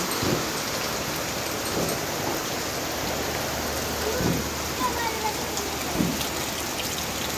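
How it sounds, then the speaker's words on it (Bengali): Steady rain pours in a dense, continuous hiss that grows heavier, with occasional soft thumps and spattering drops nearby. "এখন একটু জোরে পড়তেছে বৃষ্টিটা"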